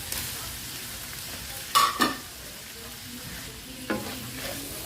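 Fresh garden tomatoes hit a hot pan and are stir-fried with vegetables, a steady sizzle broken by a few sharp scraping stirs near the middle and once more toward the end, with no talking.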